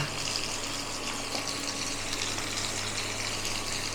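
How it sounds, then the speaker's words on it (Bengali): Water poured into chili chicken sauce makes a continuous gushing, splashing pour at close range, steady in level throughout with no talk. "সসের মধ্যে জল দেবো, একটু পাতলা করে নেব।"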